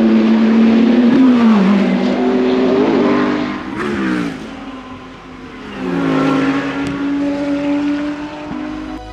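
Race cars on a British circuit during a qualifying session roar past close by, their engines rising and falling as they pass. A steady high engine drone carries through between the passes, with no talking.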